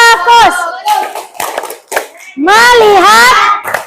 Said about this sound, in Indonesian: Kita ice breaking dulu, tepuk fokus.